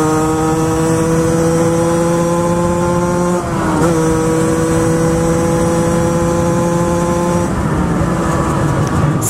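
Derbi GPR 50cc motorcycle with a Conti exhaust revving hard and close, a buzzing two-stroke whine climbing steadily in pitch, breaking briefly at gear shifts, then climbing again.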